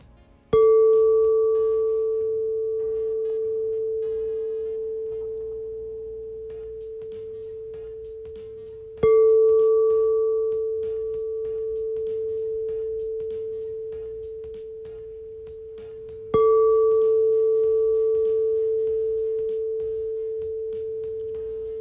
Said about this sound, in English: I have my singing bowl right here next to me